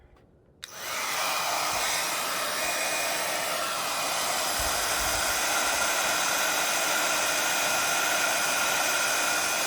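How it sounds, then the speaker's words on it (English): A heat drying tool starts abruptly and then blows a steady, loud, even whoosh without pause while it dries Hero Hues reactive glaze on paper. "I will go ahead and hit this with a little drying so that you can see."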